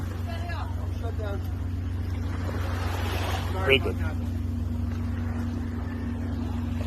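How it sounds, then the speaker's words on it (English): Low, steady hum of a motorboat engine idling, heard under a person's exclamation and a brief splash or thump of water partway through. "Shut the engine up."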